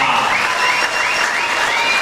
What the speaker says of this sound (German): Applaus für Danyo Ilunga!